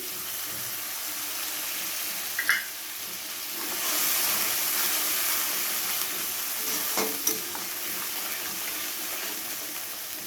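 Water from rinsing a spice bowl poured into frying spices in a pan for a Bengali tangra fish curry, giving a steady hissing sizzle that swells after a couple of sharp bursts and stays loud, with no talking.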